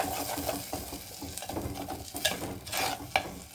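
Spinach paste with salt and green chilli frying in a pan, a low close sizzle broken by soft scraping stirs that come in short bursts.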